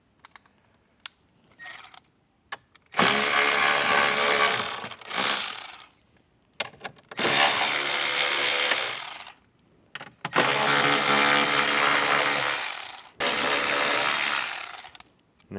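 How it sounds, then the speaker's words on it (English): Phillips screws come out of a 2024 or newer Jeep Wrangler under a powered driver, heard as three loud, whirring, ratcheting bursts. Each burst lasts a few seconds, with short clicks and quiet gaps between them. "So let's get these screws out first."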